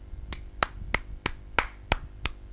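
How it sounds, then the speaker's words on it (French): Applause at a Pokémon Platinum contest plays as evenly spaced single claps, about eight sharp game-sound hits in a steady rhythm, clear and alone. "Vodka est premier. Applaudissez-le."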